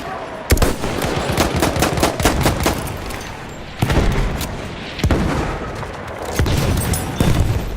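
Weapon fire in the World War I shooter Battlefield 1, loud punchy shots in quick bursts and single cracks with booming low-end impacts, repeating across the whole stretch with no speech over it.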